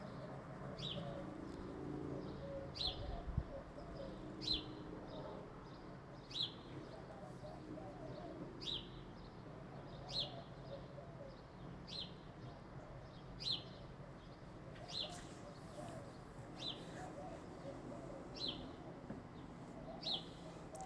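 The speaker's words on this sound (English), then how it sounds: "just watching the birdies flying around, hearing their chirps and their coos" Outdoors on a pleasant day, birds chirp in short, regular, repeating calls over soft cooing from doves, all fairly faint against a steady low background hum.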